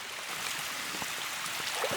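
Water pours down a wilderness cliffside into a river, a steady broadband rush and trickle with no clear breaks, fairly soft and continuous throughout.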